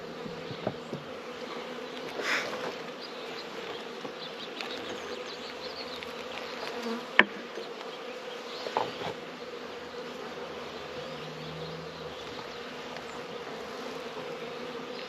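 Honeybees buzz around an opened hive during the first check of the season, a steady close drone with occasional louder passes and soft knocks from handling the frames.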